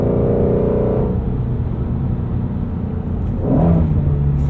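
A Ford Mustang Shelby GT350 engine pulls hard through the rev range in fourth gear near 70 mph, a steady loud rumbling drone with rising pitch heard from the cabin and a brief surge of revs toward the end.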